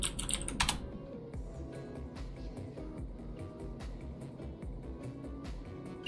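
A computer keyboard clacks under steady typing, a quick run of crisp, close keystrokes with a brief louder burst at the start and no talk over it.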